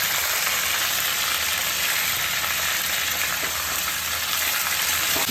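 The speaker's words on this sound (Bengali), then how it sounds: "এই যে সর্ষের তেল দিয়ে দিচ্ছি, একটু চিকেনটা ফ্রাই করে দিচ্ছি।" Chicken pieces frying in mustard oil in a pan, a loud, steady, dense sizzle that stays even throughout with no voices.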